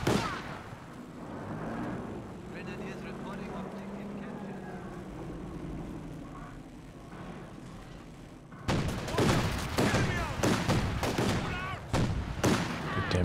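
A flak panzer anti-aircraft gun in the strategy game Company of Heroes bursts into rapid, sharp repeated firing amid battle din. The volleys come loud and dense after a quieter stretch of distant rumbling and commentary talk.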